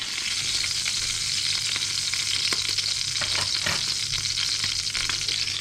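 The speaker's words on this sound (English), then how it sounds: "we're just going to fry this to try to darken up the skin and crisp it up" Goose breast fries skin-side down in a hot pan, a loud, steady sizzle and crackle of fat with occasional sharper pops, continuous and close.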